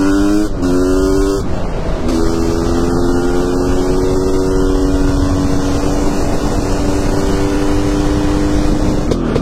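Continuous motorcycle engine drone while riding, loud and close throughout, with harmonic tones that dip briefly near the start and then hold steady as the bike cruises along.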